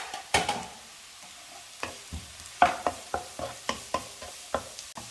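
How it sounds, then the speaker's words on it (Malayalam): Onions and grated carrot sizzle faintly in a pan while a utensil stirs them, giving a series of regular scraping clicks over a quiet, low hiss. "സവാള നന്നായിട്ട് വാടി വന്നിട്ടുണ്ട്, അതിലേക്ക് ഗ്രേറ്റ് ചെയ്ത ക്യാരറ്റ് ചേർക്കാം"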